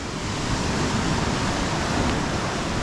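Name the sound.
strong sea waves at Colibra island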